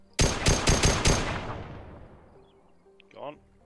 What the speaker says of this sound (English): I'm gonna fire a few more gunshots.